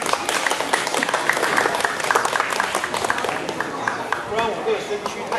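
An audience at a Christmas morning elementary school ceremony claps steadily and loudly, with a voice speaking through the applause.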